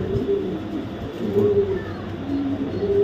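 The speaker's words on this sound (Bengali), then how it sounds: "দেখেন কবুতরটা একটু দেখাই, কবুতরটা একটু দেখেন।" A Maxi racer hen pigeon coos in low, steady rounds close by, with a faint hum in the background.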